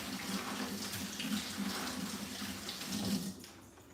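Tap water runs steadily into a kitchen sink while something is rinsed off during cinnamon roll baking, a soft continuous splashing stream heard alone at low level before it tapers off near the end.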